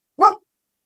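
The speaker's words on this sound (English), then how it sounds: "my dog is barking" A single short, sharp dog bark heard close by indoors in a home, clear and isolated against otherwise silent background.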